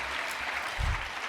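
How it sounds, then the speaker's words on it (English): A crowd at a Los Angeles dinner gala claps in sustained applause, a dense, even wash of many hands throughout the short moment. "Please give a hand clap for my mama that's here tonight."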